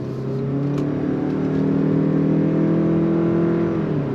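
A 2025 Toyota Crown midsize luxury sedan with a CVT accelerating on throttle in sport mode, a steady interior engine hum with rising and falling tones, continuous and moderately loud with no talking.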